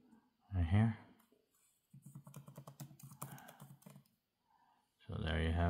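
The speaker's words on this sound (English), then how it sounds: "So I'm just randomly typing stuff" Typing on a MacBook keyboard: about two seconds of rapid, close key clicks in an uneven rhythm, with someone talking just before and after.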